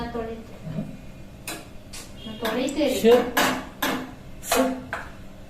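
Dishes and cutlery clatter and clink in a sink in short bursts, with scraping and clanks, while a voice talks now and then underneath.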